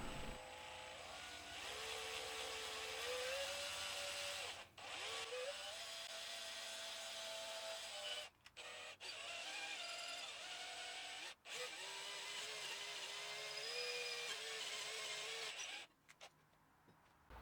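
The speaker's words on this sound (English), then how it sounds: "Drilling for the truss rod access now that the headstock angle has been cut away." A power drill whines steadily at high speed, its pitch shifting as it bites into a wooden bass guitar neck for truss rod access, stopping briefly several times before restarting.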